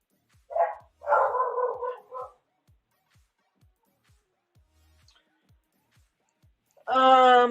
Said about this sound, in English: My dogs hear that and are barking.